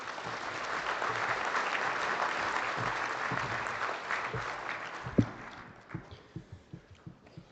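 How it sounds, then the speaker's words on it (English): An audience at a 4-H livestock awards ceremony gives a sustained round of applause that fades out near the end, leaving a few scattered claps and footsteps on a hollow floor. "Let's give him a round of applause, please."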